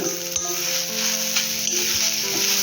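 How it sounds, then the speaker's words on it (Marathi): Grated coconut being dry-roasted and stirred in a pan for a Malvani spice paste, giving a steady close sizzle and scraping texture with no talking. "तर आपण पूर्ण खोबरं भाजून घेते पाहिजे"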